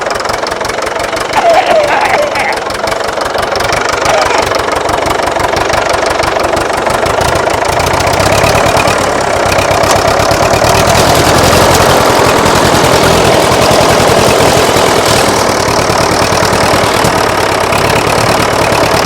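A broken tractor's engine runs loud and close with a rough, knocking, hammering beat that carries on without a break the whole time.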